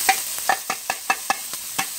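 Red onions and garlic hitting a hot pan, heard as a string of short, evenly spaced sizzling bursts and stirring scrapes, close and moderately loud with no talking.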